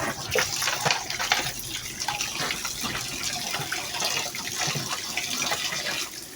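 Tap water runs into a sink while raw chicken meat is washed under it, a steady near gush with irregular splashes and handling sounds throughout, no talking.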